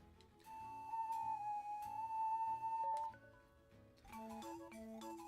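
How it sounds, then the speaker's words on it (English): A breathy pan flute melody from The Legend of Zelda: Spirit Tracks plays over a light backing, a long sustained note followed by shorter stepping phrases. "Yeah, this game has pan flutes."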